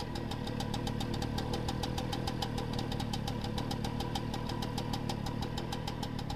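A Peugeot 103 moped engine idles steadily and unusually quietly, a continuous low mechanical hum with a fast, even ticking rhythm running throughout, with no voices.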